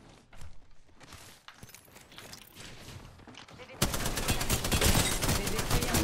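Gunfire in the video game Argent 2, with scattered shots early and then a loud, dense burst of rapid fire over the last couple of seconds.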